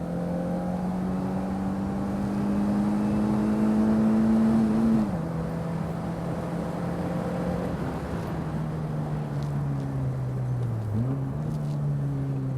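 A Fiat Cinquecento engine drones steadily through a lap of the Curborough Sprint Course, its pitch slowly rising under load, then dropping sharply at gear changes. The car is heard from inside, loud and constant.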